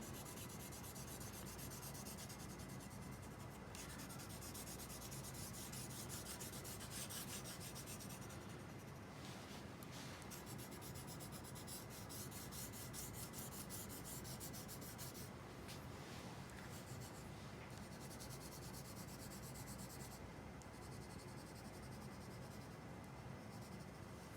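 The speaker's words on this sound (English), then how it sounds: "So go sideways with your shading." A green coloured pencil shades sideways across paper, producing a steady, close scratchy rubbing that continues with only brief pauses and no voices.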